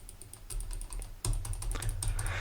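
Close, rapid clatter of computer keyboard keys during gaming, an unbroken run of quick keystrokes with no talk, growing louder and busier about halfway through.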